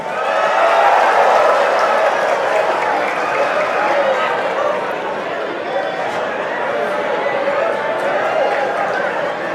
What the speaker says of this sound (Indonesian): kok tepuk tangannya keras banget